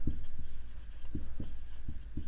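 Pen or pencil strokes on paper while working a geometry math problem, a quick run of scratchy marks in short bursts, close and clear, with no voice.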